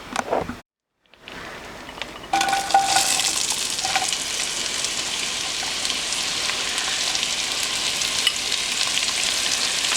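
Onion and celery sizzle in melted butter, a steady broadband frying hiss that swells after a short pause and carries on loud and even, with no one talking.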